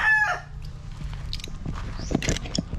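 A brief rooster crow at the start, followed by soft clucking and pecking noises nearby.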